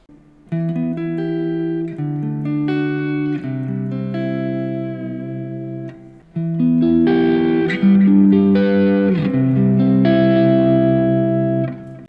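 Clean electric guitar chords through an American-style clean amplifier tone ring out with sustained notes, a brief pause, then a fuller, busier strummed passage that fades at the end.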